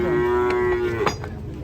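Cattle being unloaded from a truck, one cow letting out a long loud moo that breaks off, followed by thumps and shuffling nearby.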